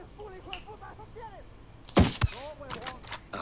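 A couple of sharp gunshots in the PC game Tom Clancy's Ghost Recon Wildlands crack out midway, loud and close, between stretches of talking voices.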